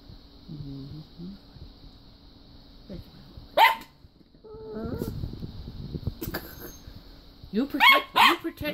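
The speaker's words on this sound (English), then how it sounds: "How's a dog with no teeth be that vicious?" Dog barking in short sharp bursts with some growling and whimpering, close by, mixed with a person talking; a toothless dog playing roughly in a home.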